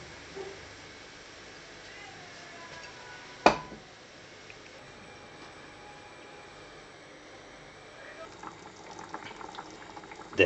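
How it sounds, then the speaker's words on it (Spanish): Rabbit ragù broth with beer boiling and reducing in a pot, a steady low bubbling simmer with a brief sharp clatter partway through and a few louder pops near the end. "he visto que tengo que reducir el caldo y es lo que estoy haciendo"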